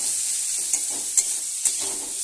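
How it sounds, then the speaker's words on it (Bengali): Onions and green chillies frying in oil in a wok, a close, steady hiss of sizzling with a few light scraping stirs of the spatula, no voices. "এই যে পেঁয়াজ ভাজা হচ্ছে"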